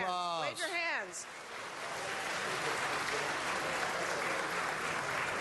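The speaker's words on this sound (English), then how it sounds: "So give them a round of applause." Applause for school students at a city council meeting fills the room after a brief voice at the start, a steady, moderately distant wash of clapping that holds evenly to the end.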